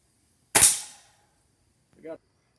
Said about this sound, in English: Now we're just going to plink some targets for fun.